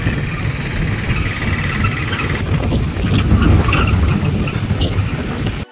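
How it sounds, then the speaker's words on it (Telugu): An auto rickshaw engine rattling and droning steadily while riding through traffic into Nalgonda, with a thick broadband road roar and occasional faint squeaks. "ఆటోలో వస్తున్నాం కదా, కొంచెం షేక్ అవుతుంది."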